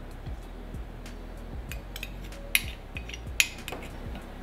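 A spoon works crushed cookies into melted unsalted butter in a bowl, making rhythmic scraping strokes about every half second, punctuated by two sharper metallic clinks.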